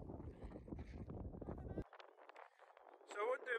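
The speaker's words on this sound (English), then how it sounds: "This is getting a bit windy." Gusty wind on the summit of Meall Buidhe, a Munro in Glen Lyon, roaring and buffeting the microphone in heavy bursts before dropping off, with a person talking briefly afterward.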